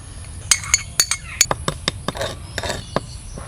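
Chili powder, salt and sugar being mixed in a bowl, a quick run of light clinking taps of a utensil against the dish, irregular and close, with no talking.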